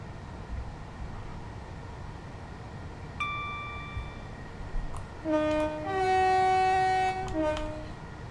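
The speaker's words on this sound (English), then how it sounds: "Love the horn though." A commuter train's horn in Train Sim World 2 sounds a short tone, then a longer two-note blast over a steady low rumble of the running train.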